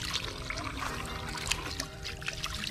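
Water trickling and splashing while pig intestines are washed, a close, steady running stream with small splashes throughout.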